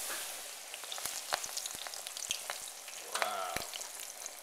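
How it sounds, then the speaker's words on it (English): Battered corn dogs on skewers fry in hot oil with a steady crackling sizzle, broken by sharp scattered pops and spits, close by with no voices. "we're going to get these coated in the batter and start frying"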